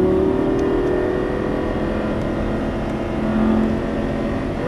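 A Lamborghini Superleggera engine drones loud and steady under full throttle on a racetrack, a continuous dense roar with a slight rise in pitch near the end.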